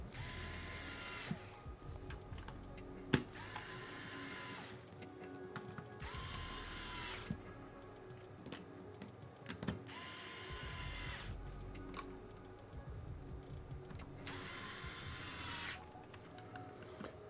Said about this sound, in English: Now we're just going to start screwing this in.